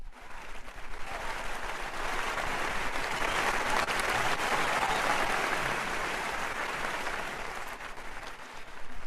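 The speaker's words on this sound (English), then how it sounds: "Please give the faculty, staff, and administration a big round of applause." A long round of applause from the audience at a music school graduation ceremony, honoring faculty, staff and administration. Full-room clapping swells quickly, holds strong and steady for several seconds, then begins tapering near the end.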